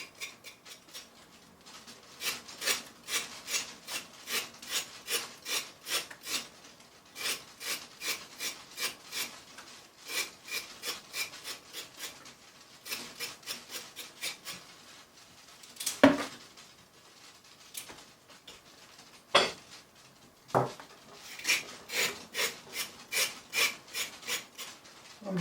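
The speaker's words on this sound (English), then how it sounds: "I'm just using the back of the knife to just give them a scraping." A kitchen knife's back edge scrapes along raw carrots in quick bursts of rasping strokes, close and fairly quiet, with brief pauses and a few sharper knocks between runs.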